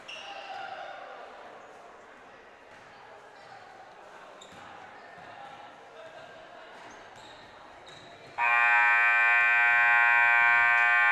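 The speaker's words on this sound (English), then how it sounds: "the buzzer" A loud, sustained electronic buzzer sounds in a gym at a girls' high school basketball game, following quieter crowd murmur and court noise, and continues steadily to the end.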